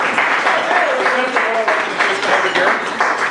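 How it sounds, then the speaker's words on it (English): A corporate event audience applauds for a comedy mentalist's two volunteers, steady broadband clapping filling the room while a voice and a few tonal sounds rise over the top. "Can we give Mike and Jennifer a big round of applause?"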